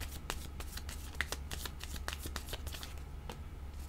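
Tarot cards shuffled by hand, a quick series of crisp riffling flicks and soft slaps close up, steady over a low background hum with no talking.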